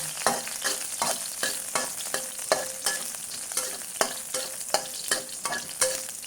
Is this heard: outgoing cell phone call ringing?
no